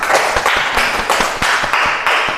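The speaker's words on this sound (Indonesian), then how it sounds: "Kita berikan tepuk tangan dulu." Classroom applause in an Indonesian teacher-training session, loud rhythmic clapping in a regular patterned beat, close and clear with no talk over it.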